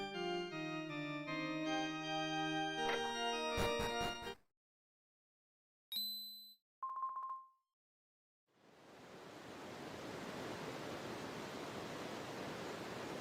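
A blood waterfall in a video game gives a steady, loud rushing roar that starts after a run of game music and a few short chime tones, with no talking.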